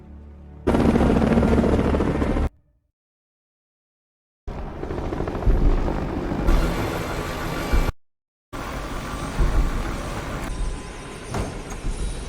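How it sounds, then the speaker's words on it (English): A helicopter crammed with passengers in a military action drama, its rotor and engine roar coming in three loud bursts separated by abrupt silent gaps. "they all cram themselves aboard Josefina's chopper"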